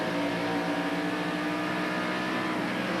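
A 1993 NASCAR Winston Cup stock car's engine roars loud and unbroken at Watkins Glen as Tommy Kendall works the throttle, a dense, close, sustained howl with no voices over it.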